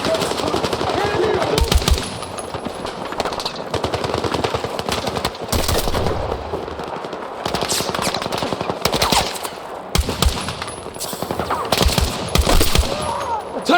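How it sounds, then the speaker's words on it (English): Heavy automatic gunfire and rapid shots rattle through a Battlefield 6 combat mission, bursts coming in dense clusters with brief gaps, loud and close, with shouted voices breaking in now and then. "Taking heavy fire!"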